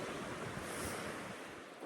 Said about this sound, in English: But this is the sea.